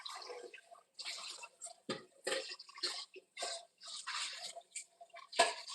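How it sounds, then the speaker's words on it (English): Running water rinsing something off in a sink, splashing in uneven bursts with short pauses between, fairly faint and close. "Rinsing it off."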